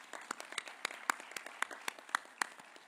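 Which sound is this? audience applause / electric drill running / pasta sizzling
audience applause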